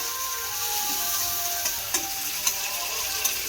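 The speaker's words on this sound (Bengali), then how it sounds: "দেখুন আদা আর কাঁচা লঙ্কাটা ভাজা হয়ে গেছে" Ginger and green chilies frying in hot oil, giving a steady, close, loud sizzle broken by a few light clicks of stirring in the pan.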